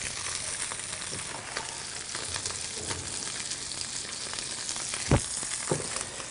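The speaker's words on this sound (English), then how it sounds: "that just cooking that way in the pan, and it's just going to get nice and golden and crisp on the outside" Hapuku fish fries in a hot pan, a continuous close sizzle with faint crackles and a couple of brief louder pops toward the end.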